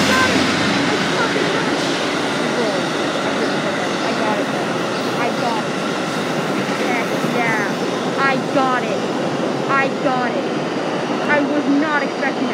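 A Chesapeake and Ohio train hauling a private car rolls past on the DC Metro line, a loud, steady rumble and clatter of wheels with rhythmic squeals and clicks throughout.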